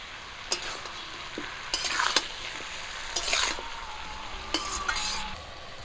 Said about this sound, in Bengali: লবণ আর হলুদ দিয়ে শাকটাকে একটু ভাজবো